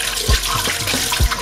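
Water runs from a kitchen tap while utensils are washed, a continuous splashing stream with a few heavier gushes and knocks, close by and with no talking.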